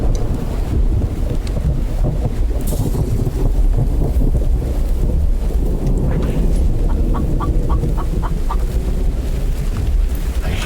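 Chickens cluck in the survival game The Infected, a run of short rhythmic clucks standing out over heavy, constant wind noise and rumbling ambience.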